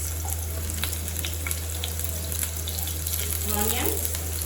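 Garlic and onions hit hot, reused frying oil and sizzle loudly and continuously up close, with a low steady hum underneath and no speech.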